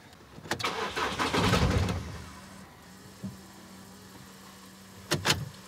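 A car engine cranking but failing to start on a dead battery, a short labored whirring burst followed by quieter clicks and a faint steady hum, then another brief crank attempt near the end, close up with no speech.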